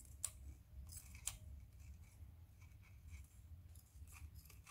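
Scissors cutting lace or paper for a mixed-media box craft, two or three faint crisp snips over a low quiet room hum, with no talking.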